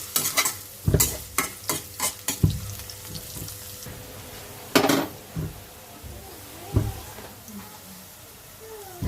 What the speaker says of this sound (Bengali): পেঁয়াজ আর তেল দিলাম ভালো করে ভাজবো